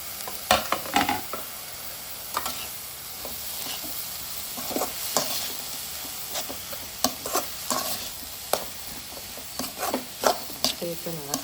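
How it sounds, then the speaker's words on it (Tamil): Onions sautéing in a pan for paneer bhurji, a steady sizzle broken by frequent scrapes and clinks of a spatula stirring through the pan, close and moderately loud. "5 மினிட்ஸ் வந்து வெங்காயம் நல்லா வதங்கட்டும்"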